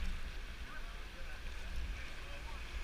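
River rapids at Upper Beaver rapid on Clear Creek, heard as steady rushing whitewater with a broad, continuous wash of turbulence and some wind buffeting, at moderate distance and fairly low level.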